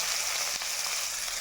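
Green chilies and onion fry in a pan over cumin seeds, giving a constant dense hiss of oil that runs evenly throughout, close and steady with one brief soft knock and no voices.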